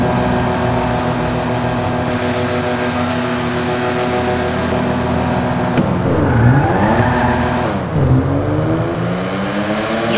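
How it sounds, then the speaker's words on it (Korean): A Lampadati Casco car exhaust drones loud and close inside a tunnel, holding a steady note before two sharp revs dip and rise again, echoing off the walls with no talking. "제가 터널 가서 배기음 한번 들어보겠습니다."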